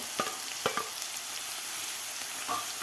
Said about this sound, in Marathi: वाटणसुद्धा आपल्याला 2 मिनटं व्यवस्थित परतून घ्यायचं आहे